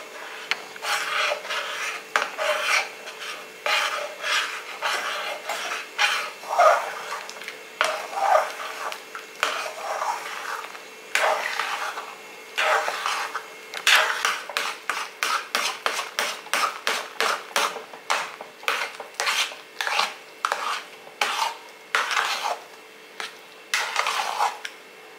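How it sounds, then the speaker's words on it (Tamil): Ragi kali is stirred vigorously in a pot with a spatula, a long run of rapid rasping scrapes against the pot, fast and rhythmic, close and alone. "ஊற்றிக்கிட்டே கிளறிடுங்க. இப்போ தான் நீங்கள் கொஞ்சம் கவனமாக கிண்டணும்."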